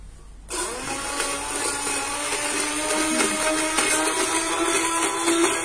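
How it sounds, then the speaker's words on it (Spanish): After a brief quiet moment, a kitchen blender starts up on vegan taco sauce ingredients including garlic and achiote, holding a loud, steady whirring whine that rises slightly in intensity as it runs. "Ok, batidora."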